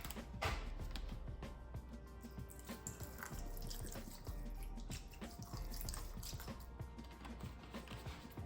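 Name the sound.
rinsing fish in vinegar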